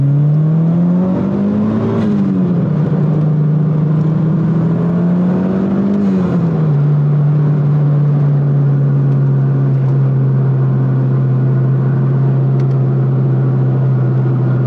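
A Mitsubishi Lancer Evolution VII engine drones loudly and steadily at about 4000 rpm, rising briefly twice before settling into a constant, close humming roar.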